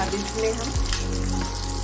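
Sizzling and bubbling of liquid gravy hitting a hot pan where eggs were just fried for egg curry, a steady frying hiss with a brief splash, under someone speaking.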